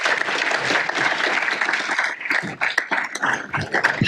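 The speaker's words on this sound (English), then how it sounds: "Please join me in a round of applause to welcome Jess." A meeting audience applauds steadily for a welcomed speaker, a dense, even wash of many hands clapping close by that thins slightly toward the end, with no talking over it.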